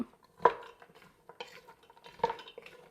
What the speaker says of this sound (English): give this a good stir and let this start to come up to temperature for a minute